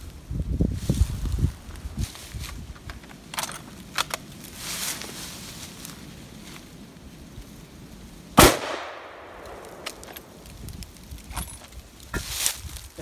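A 7mm Remington Magnum rifle fires at a brake rotor: one sharp, loud gunshot cracks out mid-way, set against quieter outdoor rustling and a few smaller pops before and after.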